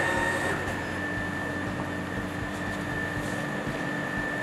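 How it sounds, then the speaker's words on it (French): Automatic garment folding machine in a laundry workshop, sorting and folding polos, t-shirts and trousers on its own, runs with a steady mechanical hum and whir, with a constant high tone over dense broadband machine noise and no speech. "c'est une plieuse qui reconnaît seule les différentes pièces, donc polo, t-shirt, pantalon"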